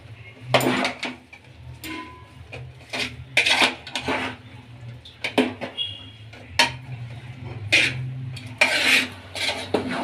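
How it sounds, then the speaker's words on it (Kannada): A spoon scrapes and knocks repeatedly against a pan while green beans and soya chunks are tossed and mixed, the close metallic clatters coming in irregular bursts over a faint background hum. "ಈಗ ಚೆನ್ನಾಗಿ ಮಿಕ್ಸ್ ಮಾಡ್ಕೊಳ್ಳೋಣ ಎಲ್ಲಾನು"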